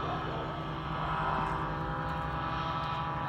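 A powered paraglider's propeller motor drones steadily overhead as it makes a flyby at a campground gathering, a continuous moderately loud buzzing hum with no break across the stretch.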